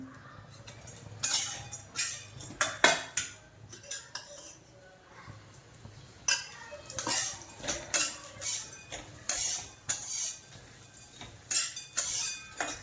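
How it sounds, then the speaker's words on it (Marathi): Almonds are dry-roasted in a pan while a metal spoon stirs them, giving repeated close clinks and scraping rattles in irregular bursts. "आता बदाम भाजून घेऊया"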